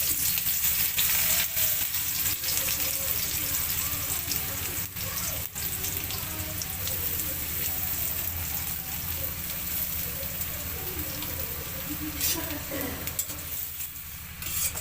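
Chopped onions fry in oil in a pan, giving a continuous crackling sizzle at moderate loudness, broken by occasional stirring clatters and a brief burst of louder spitting near the end.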